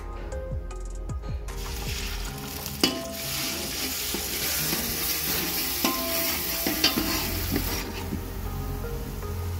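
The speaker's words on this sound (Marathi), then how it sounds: "तेल घालून मसाला परतून घेऊया" Steady oil sizzle of masala frying in a pot over a wood-fired stove for chicken curry, with occasional scraping stirs and clinks, continuous and close throughout.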